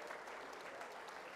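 Audience at a railway job fair ceremony in Bhubaneswar claps steadily, a faint, dense patter of many hands heard from a distance with no voices over it.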